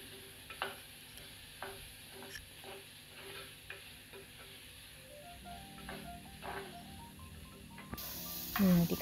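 Chopped onions, garlic and green chillies frying in oil for a bitter gourd curry, with a steady soft sizzle, occasional stirring scrapes and a louder burst near the end.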